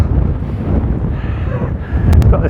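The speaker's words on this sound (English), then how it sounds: "Got this head down into the wind. It's physically pushing against me there." Strong, gusting wind on an exposed England Coast Path stretch between Bradwell and St Lawrence, roaring steadily and buffeting the microphone with a dense, low rumble that swells slightly toward the end.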